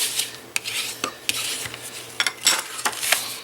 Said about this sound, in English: go ahead and just fold on all of your score lines and burnish